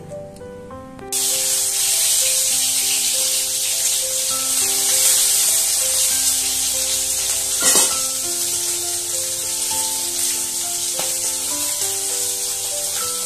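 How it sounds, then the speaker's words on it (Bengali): Lata fish frying in hot oil, a loud continuous sizzle and hiss near the mic, with an occasional louder splutter partway through and no one talking. "লাঠা মাছগুলো ভালো করে ভেজে নিচ্ছি বন্ধুরা"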